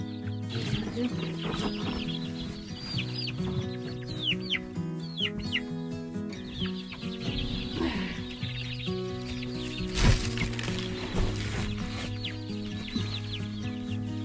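Many chicks and chickens cluck and peep in a dense, steady chorus over a low constant hum, as the birds are moved into a better-insulated shelter during bitterly cold winter farm chores.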